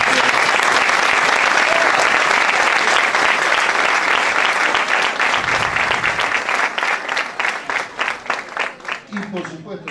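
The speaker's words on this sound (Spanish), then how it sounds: "Así que un aplauso a Mariana." Sustained applause from a large audience at a public defense conference in Mendoza, filling the room and tapering into scattered claps near the end.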